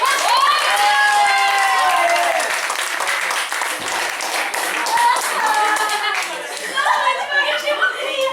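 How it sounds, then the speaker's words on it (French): Audience at a live show claps and cheers after the performance, with steady applause alongside laughter, whoops and excited voices from the crowd. "Ouais, les applaudissements. Merci le public."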